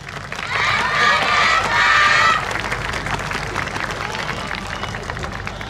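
At a dance contest performance during the 2019 Kamisu Maccharge festival, a crowd cheers loudly with high shouting voices for a couple of seconds, then settles into sustained steady applause.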